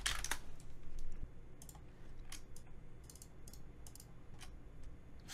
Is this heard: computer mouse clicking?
yes